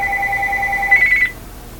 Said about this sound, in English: Little phone call coming in.